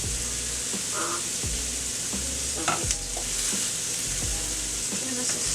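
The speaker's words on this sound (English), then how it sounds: "just give this a stir" Crimini mushroom risotto being stirred in a pan, a spoon scraping and sloshing through the thick rice in several bursts over a soft steady sizzle, close and alone with no talking.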